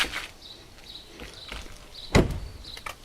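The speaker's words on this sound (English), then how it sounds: "The front door makes this sound." A car's front door swings shut with one solid, close thud, followed by faint rattles and rustling; no one speaks.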